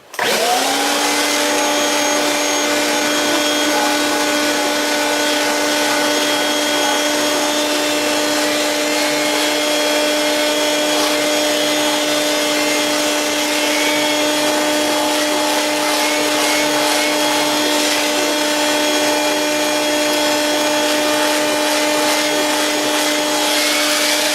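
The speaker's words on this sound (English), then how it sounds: "so we're just going to vac it off" A Kirby Avalir vacuum cleaner runs steadily over carpet while lifting a dried coffee stain, its loud whining motor holding a constant pitch close by for the whole stretch, with no talking.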